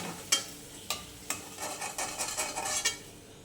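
Potato pieces fry in hot oil in a pan, a soft sizzle broken by repeated clinks and scrapes of a spatula stirring against the metal, no voices.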